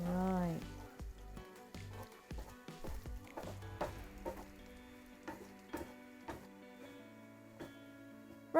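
Onions frying in a pan, a soft hiss and crackle with scattered pops and stirring clatter, fairly quiet and close, with a voice briefly speaking over it early on.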